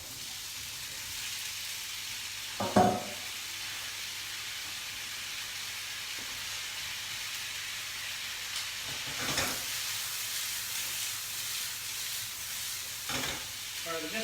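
Diced potatoes and chilli sizzle steadily in a hot pan in a hotel restaurant kitchen. A soft, continuous hiss is broken by a few louder bursts of spitting and stirring.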